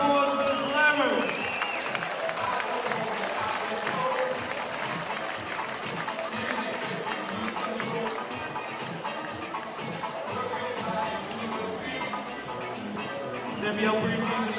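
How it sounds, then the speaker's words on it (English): Large basketball arena crowd at an NBL preseason game applauding and cheering for the Slammers, a dense sustained roar of clapping and voices that holds steady for the whole stretch. "Big round of applause for the Slammers."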